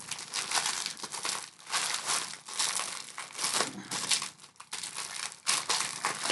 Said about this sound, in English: We get the tape off here.